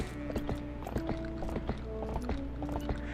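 Hoofbeats from horse riding in the video game The Legend of Zelda: Twilight Princess HD, steady clip-clop strides repeating about every half second over a bed of game music, close and clear.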